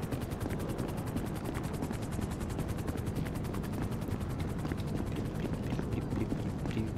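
Helicopter in Grand Theft Auto V, a steady broadband rotor drone with rapid regular blade chop throughout, loud and continuous with no talk over it.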